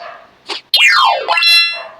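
A dog yelps and barks close by, short high-pitched howling cries with a rising and falling whine, loud and alone.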